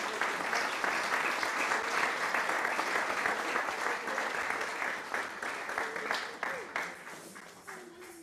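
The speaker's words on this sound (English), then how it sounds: "let's give Mary a round of applause for her 30 years" Applause for Mary's 30 years of service, as a small gathering claps steadily for several seconds; the clapping then thins and tapers into scattered final claps toward the end.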